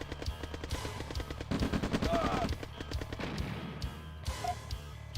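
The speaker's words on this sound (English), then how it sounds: "Shooting." Gunfire in the video game C&C Red Alert Remastered: rapid bursts of automatic shots crackle repeatedly, mixed with game effects and a voice speaking over the action.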